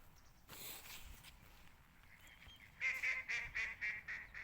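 A white duck gives a short run of loud honking quacks near the end, after quieter calls, with faint background noise, in a park.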